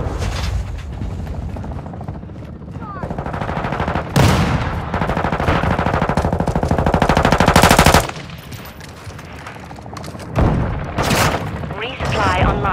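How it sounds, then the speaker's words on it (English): Sustained automatic gunfire with sharp broadband bangs, including a stun grenade blast, in the video game Call of Duty: Modern Warfare II; loud bursts hit around the middle and again near the end, with game voices speaking over the combat. "Throwing a stun grenade!"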